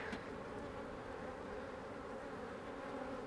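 Honey bees crowd a hive lid during an artificial swarm and split, their steady dense buzzing close and continuous without a break.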